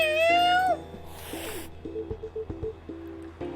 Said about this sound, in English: If I'm not mistaken, this is a local cat.